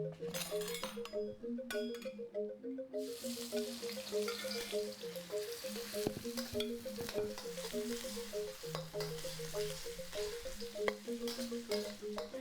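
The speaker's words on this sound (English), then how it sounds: "We cook the shallot until slightly brown." Shallots frying in hot oil with chili for sambal goreng, a continuous close sizzle with occasional spoon clinks and stirring scrapes, steady under faint background music.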